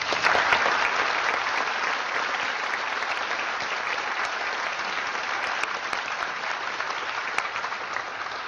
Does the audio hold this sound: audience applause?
yes